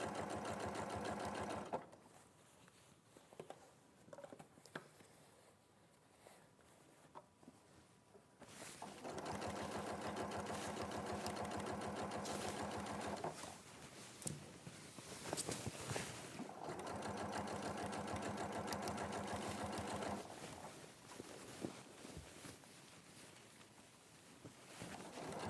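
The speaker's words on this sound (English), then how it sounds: "I'm just going to sew over the top 3mm from the seam line to hold it in place" A sewing machine stitches a topstitch 3mm from a seam line in runs of several seconds, stopping and restarting, a close steady motor hum with quieter pauses between bursts.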